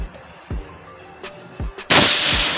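Several sharp, dry pops of an FX AWP air rifle firing, spaced apart, with a final louder crack followed by a burst of hissing noise.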